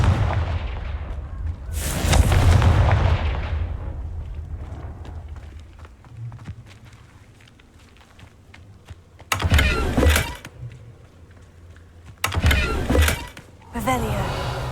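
Confringo fire spell blasts in Hogwarts Legacy, a loud explosive burst near the start followed by two more sharp blasts later, with quiet game ambience between.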